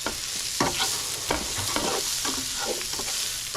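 A meat mixture is stirred in a hot pan, with repeated scraping strokes over a steady sizzle, close and fairly loud, no talking.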